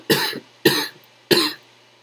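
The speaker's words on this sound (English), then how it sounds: "So many coughs." Three distinct coughs from a single person, evenly spaced about half a second apart, close and fairly loud in a quiet room.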